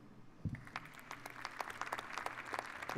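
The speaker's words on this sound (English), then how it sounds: "So you guys heard me clapping and everything?" A handful of hands clap in a loose, uneven patter, fairly faint and distant, with a soft knock near the start and a slight swell toward the end.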